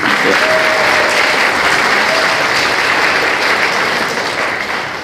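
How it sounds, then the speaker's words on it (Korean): An audience at a Busan citizens' forum claps steadily for several seconds, a dense, loud, unbroken roar of many hands that tapers slightly at the end. "박수 부탁드리겠습니다."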